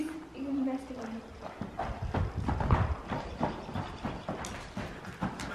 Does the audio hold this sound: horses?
yes